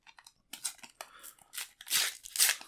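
Panini FIFA Women's World Cup 2023 sticker blister pack being pulled apart, a run of close crinkly crunches and tearing bursts, growing louder toward the end, with no talk.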